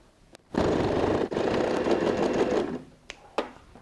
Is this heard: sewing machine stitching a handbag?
yes